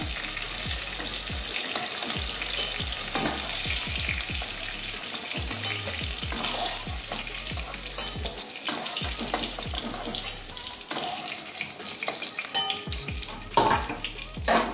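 Potato pieces frying lightly in oil in a pan for a Bengali potol-alu-mushroom curry: a steady broadband sizzle with repeated clinks and scrapes of a spatula stirring, close and continuous, with no talking.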